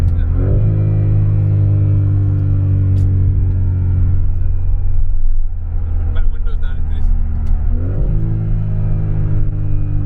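A BMW G80 M3's S58 engine idles with a deep, steady rumble, then revs up sharply twice, the pitch climbing and falling back, under a voice talking.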